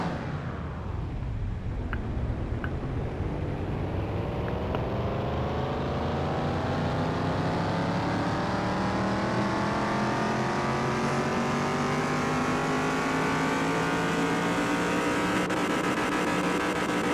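A 1969 Pontiac Tempest muscle car engine in a car-repair video game revs steadily upward on a dyno, its tone climbing smoothly through the run and holding loud and alone without talk.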